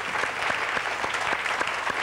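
A French TV quiz show studio audience claps for the winning champion, a full, even burst of applause from many hands, loud and sustained throughout without talk.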